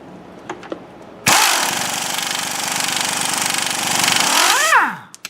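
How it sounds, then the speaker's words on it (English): Pneumatic impact gun loosening a tie rod end nut, a loud sustained rattling hammer burst of about three and a half seconds that winds down with a falling whine, preceded by faint clicks and handling noise. "I prefer to use an impact gun"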